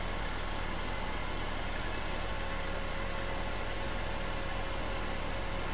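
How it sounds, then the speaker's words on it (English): A box scraper cuts into spinning wood on a woodturning lathe while an acorn box is shaped, giving a steady, loud whirring drone with a constant tonal hum and scraping noise, no pauses and no talk. "now I'm going to take a box scraper and I'm just going to come in here, a little over 1/8 inch at a slight incline"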